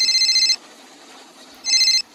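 A telephone bell rings in two loud, bright bursts separated by a short quiet gap, the ring sounding inside a runaway Helirailcar train, with no talk over it.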